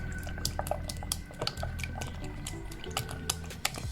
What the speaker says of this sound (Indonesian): Kita kocok lepas sedikit telurnya dengan susu.